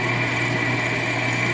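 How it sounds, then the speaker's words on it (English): A drill bores into a Ford Model T drive shaft being shortened for a snowmobile, giving a steady, unbroken motor whine with no pauses and no talking. "Well, I got a different drill."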